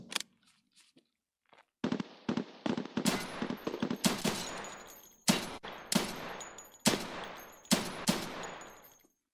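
Gunfire in Escape From Tarkov during a PvE raid: loud, sharp shots crack out singly at first, then in rapid bursts and volleys separated by brief gaps, with no talking.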